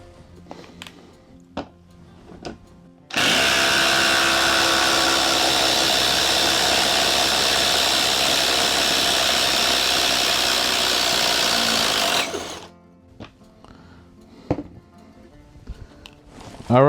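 A Ridgid SubCompact impact wrench backs out a 6-inch lag bolt with one loud, continuous rattling hammer lasting about nine seconds. Quieter stretches with small clicks and handling noises come before and after it.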